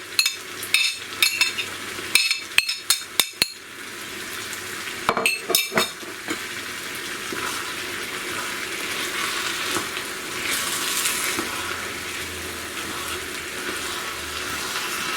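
Minced meat with fresh cilantro and mint leaves frying in a pan, a steady close sizzle with a few sharp clinks of stirring early on, then continuous crackling hiss alone.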